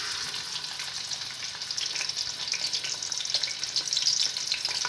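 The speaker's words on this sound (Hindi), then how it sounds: "ये हमारा गर्म हो चुका है। अब इसमें प्याज ऐड करते हैं।" Sliced onions hit hot oil in a pan for Punjabi-style kadhi pakora, producing a loud, continuous crackling sizzle that swells a little toward the end, with no voices.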